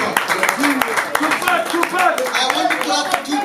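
An audience at an album listening party clapping, a scattered ragged round of handclaps under continuous talking voices.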